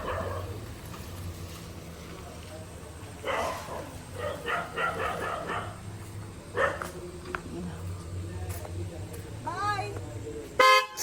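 A frightened dog gives a few scattered barks, fairly faint, among car horn toots, passing traffic and people talking nearby.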